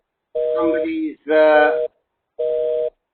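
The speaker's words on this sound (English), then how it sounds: "Somebody's phone." Electronic telephone line tones intrude on a conference call: three steady, loud beeps, the middle one harsher and warbling, separated by short gaps, with no talking over them.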